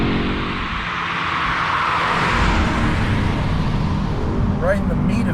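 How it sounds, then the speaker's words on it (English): A 2022 Audi S3 turbo engine pulls hard under steady acceleration, a continuous broad drone with road and wind roar heard from inside the car, and a brief higher whine near the end. "Throttle response is good once that turbo is spooled up"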